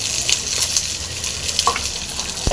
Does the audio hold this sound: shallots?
yes